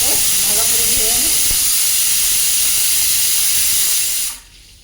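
Bay leaves rinsed under a running kitchen tap, a loud steady hiss of flowing water that cuts off abruptly near the end, with faint voice in the background.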